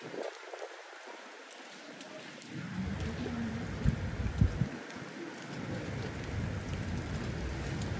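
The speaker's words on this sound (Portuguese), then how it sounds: "Olha a chuva como tá." Heavy rain with thunder: a steady, loud downpour hiss that swells after a few seconds, with low rumbling thunder rolling underneath and no talk.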